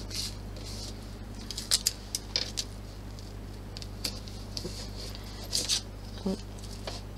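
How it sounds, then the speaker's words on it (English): Adhesive tape is pulled and pressed to hold vinyl down on an embroidery hoop while making a clutch bag, heard as several short crisp tearing and crinkling bursts close by, with a person talking. "I am going to help it not move by taping it down"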